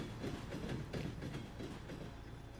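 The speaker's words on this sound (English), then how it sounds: "we're going to pull this truck straight forward" A semi truck rolls slowly forward, giving a low, steady rumble with faint rhythmic clanking, heard from a distance with no voices.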